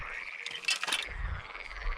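Pond frogs call at a carp fishing spot: a burst of rapid, rattling croaks near the middle, then lower throaty calls continuing at moderate volume, with no voices.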